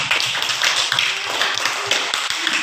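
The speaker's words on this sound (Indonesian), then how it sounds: "Tepuk tangan dulu" A group of children in a classroom clap their hands together in a quick, uneven patter of many small claps, fairly close and sustained throughout.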